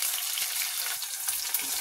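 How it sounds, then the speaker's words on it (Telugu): Onions added to the upma tempering fry in hot oil with a continuous close sizzle and faint crackles, heard alone. "ఉల్లిపాయలు కూడా వేసేసాను"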